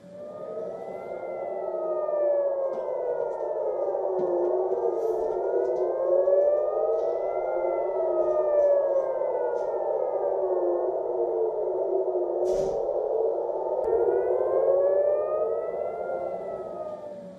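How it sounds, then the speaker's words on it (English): An air raid siren in Jerusalem wails steadily, its pitch rising and falling in long slow cycles, loud and continuous with no voices. "Sirens were also sounded in Jerusalem as residents rushed to shelters."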